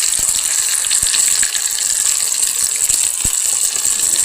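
Water splashing and trickling into a hot pan while mock fish made from lion's mane cooks in oil, a bright continuous gush with scattered clicks and rattles, close and fairly loud.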